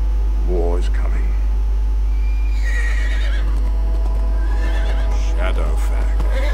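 Horse neighing in the Lego Lord of the Rings video game: two whinnies rise and fall, one early and a longer one midway, over a steady low hum and background noise.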